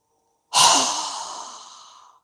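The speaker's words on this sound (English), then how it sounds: "inhaling through our nose and exhaling with our mouth open wide with a strong exhale" A single strong yoga breath exhaled through a wide-open mouth, starting abruptly after silence and trailing off slowly as a long, breathy whoosh close to the microphone.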